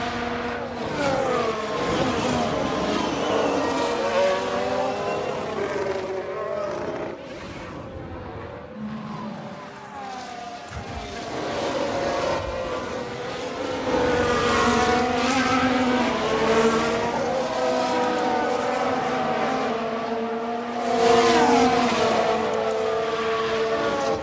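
Ferrari Formula 1 car in F1 Manager 2022 racing at Monza, a loud sustained engine whine with rising and falling pitch as cars pass and shift, several engines overlapping throughout.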